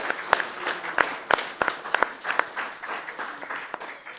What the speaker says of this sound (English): let's give High Spirits a big round of applause